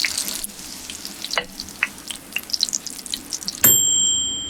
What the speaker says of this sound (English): Fry for 5 minutes on both sides.